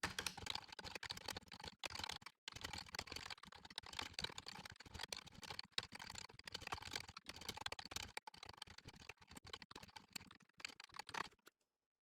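Code being typed on a computer keyboard: fast, uneven runs of close key clicks with short pauses between bursts, quiet and without talk, ending in silence.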